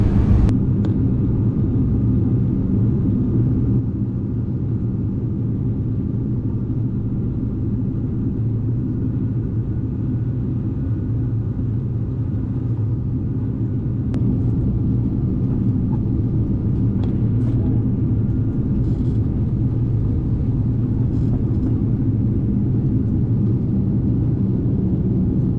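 Inside the cabin of a turboprop airliner descending toward Yakushima airport, a constant deep engine drone and rumble fills the space, steady and loud with no voices.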